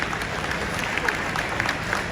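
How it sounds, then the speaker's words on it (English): Scattered clapping from a crowd at a horse pulling contest, steady and moderately loud for a couple of seconds. "Let's give him a big round of applause."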